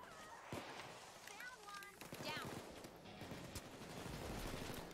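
Scattered gunshots and bursts of fire ring out during a heist in the video game Payday 2, mixed with voices talking over the action.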